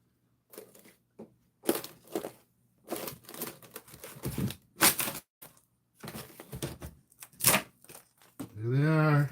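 Wall material ripped off in a home teardown, with cracking, tearing and crunching bursts in irregular spurts, near and fairly loud, mixed with speech throughout.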